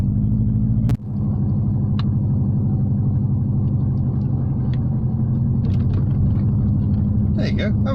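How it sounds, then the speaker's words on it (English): A Talbot Tagora driving around at a Japan Classic Sunday car meet in the Netherlands, giving a loud, steady low engine rumble close by, with a sharp knock early on and faint clatter near the end. "have a bit of bonus footage of a Talbot Tagora driving around"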